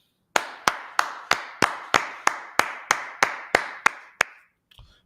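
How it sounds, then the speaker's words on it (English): Twelve sharp, evenly spaced hand claps ring out close and loud at a steady rhythm on a street corner, each with a short echoing tail, followed by a faint shuffle. "Clap it up."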